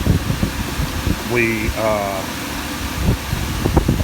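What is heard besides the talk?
salvaged HVAC blower fan blowing air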